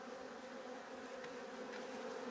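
Honey bees hum at a hive, a steady, close, even drone that carries on without pause.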